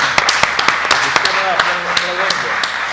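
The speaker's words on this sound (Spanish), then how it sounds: "yo le volvería a dar un aplauso a Roberto" An audience at a film history lecture applauds with scattered, crisp handclaps at an uneven rhythm, while people talk close by over the clapping.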